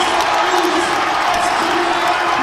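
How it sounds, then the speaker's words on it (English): A basketball arena crowd at a VCU vs St. Bonaventure college game roars after a three-pointer, a loud, sustained wash of cheering that fills the space, with voices talking over it. "There's that crowd that we're talking about."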